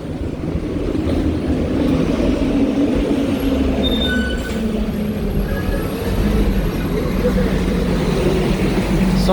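A tractor trailer truck rumbles past on a town street in Nassau, Bahamas. Its deep, loud engine drone is steady and nearby, and other traffic noise can be heard around it.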